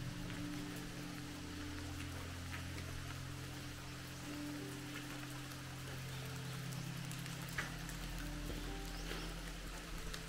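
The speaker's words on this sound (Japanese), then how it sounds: "ちょっと雨がすごいですね。" Heavy rain falls steadily at a hand-dug 1919 road tunnel in rural Takahashi, Okayama, a dense even hiss of drops throughout with occasional louder splashes nearby.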